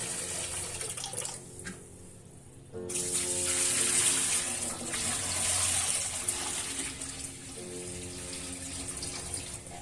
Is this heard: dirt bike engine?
no